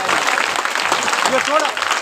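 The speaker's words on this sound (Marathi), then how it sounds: "आपण सर्वांनी एक बार टाळ्या वाजून तिचं स्वागत केलं पाहिजे" Audience clapping continuously to welcome a young girl at the closing ceremony of a multi-faith Shiv Naam week in Krushnur; dense, steady applause with a voice speaking over it.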